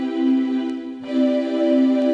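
A major ninth chord on an electronic keyboard using an orchestral setting is struck twice in quick succession, each a loud, close, sustained chord with a brief dip between them and no speech.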